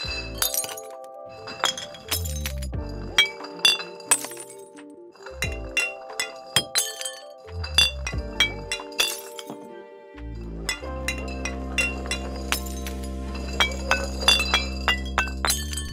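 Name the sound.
glass bottles clinking, LEGO animation sound effect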